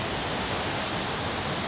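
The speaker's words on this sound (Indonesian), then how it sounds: "Ini dekat air terjun" Curug Cigentis waterfall pours nearby in a dense, unbroken roar of falling water, steady and fairly close throughout.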